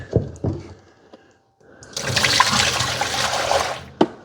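Dirty water from a Roborock Curv 2 robot vacuum tank, filled during a mud cleaning test, is emptied. A few knocks and clunks come first, then about two seconds of close, splashing pouring, ending with a sharp knock.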